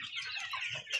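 Andijan black chicks, about two months and three weeks old, kept in a flock of around 350, giving a dense, continuous chorus of high chirps and soft clucks nearby.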